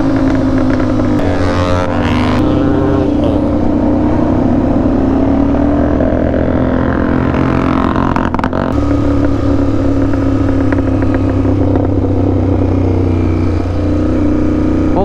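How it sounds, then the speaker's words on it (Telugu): A motorcycle engine runs close and loud, rumbling the whole time with a few rising revs and a rough, harsh tone. "మీరు నా ఈ బండి సౌండ్ అయితే చాలా ఘోరంగా వస్తుంది"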